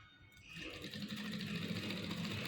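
A sewing machine starts up and runs steadily, its close, continuous motor whir and rapid needle chatter stitching a seam about half an inch from the fabric edge.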